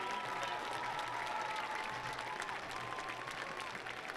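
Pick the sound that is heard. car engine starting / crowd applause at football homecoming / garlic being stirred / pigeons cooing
crowd applause at football homecoming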